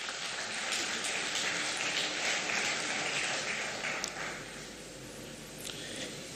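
Audience at the Nigeria Public-Private Partnership Summit 2025 breaks into dense, sustained clapping that fills the hall evenly and eases slightly toward the end.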